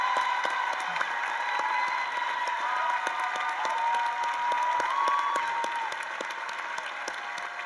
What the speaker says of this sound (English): I ask them to stand and be applauded by all of you for their great work this year